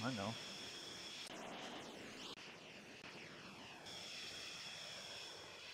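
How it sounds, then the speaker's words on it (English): Steady drone of a fixed-wing aircraft engine in flight heard from inside the aircraft, a continuous hum with no clear breaks and one brief dip partway through. "We're the only aircraft up in the sky right now."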